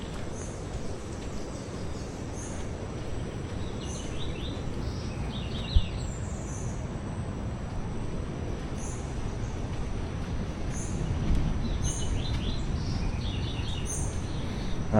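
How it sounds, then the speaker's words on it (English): Birds chirp and call high and clear over a steady wash of ocean waves on a jungle stretch of Colombia's Pacific coast at Bahia Solano, the surf a constant roar throughout. "Just hear the birds and the waves."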